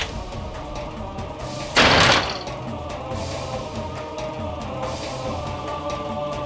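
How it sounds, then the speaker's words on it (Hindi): A door slams shut once in an indoor scene of a Hindi TV drama, a single loud thud near two seconds over low room tone, with nothing else clearly sounding. "अच्छा हुआ पायल ने खुद ही दरवाजा बंद कर लिया।"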